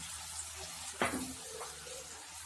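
A sharp sizzling hiss bursts up as water hits a hot pan of onions, then fades to quiet bubbling and simmering.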